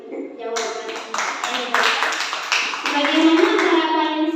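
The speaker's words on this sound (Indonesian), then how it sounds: "Kita beri tepuk tangan untuk jawaban ini." Audience clapping at an Indonesian-language education panel discussion after a panelist's answer, a few seconds of close, fairly loud clapping that builds and holds steady.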